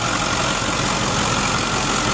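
A 2009 Ford F-250 Super Duty diesel pickup truck engine idles steadily and smoothly, a constant loud rumble with no changes in pitch and no voices.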